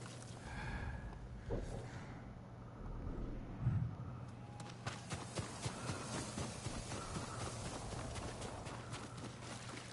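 Horse hooves in the video game Ghost of Tsushima, a quiet run of clip-clop footfalls that turns into a steady, faint galloping rhythm, with a brief snort-like burst near the middle.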